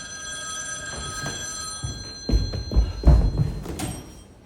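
An old-style telephone rings on stage during a theater production of the play Rope. Its bright bell tone rings through the first part, and then several heavy thumps and knocks from the stage follow close by.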